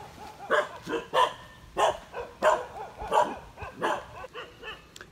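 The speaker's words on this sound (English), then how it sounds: "It's got some nice dogs on it." Several dogs on a mountain road in Lombok, Indonesia, bark repeatedly at close range, sharp yapping barks coming in an irregular series with brief gaps, with a couple of overlapping voices and whiny yips.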